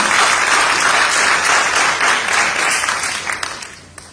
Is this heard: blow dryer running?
no